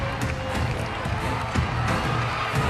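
A stadium crowd of 75,000 cheers for Cambodia during the opening ceremony of the 32nd SEA Games, a dense, continuous roar with no gaps, heard from within the stands.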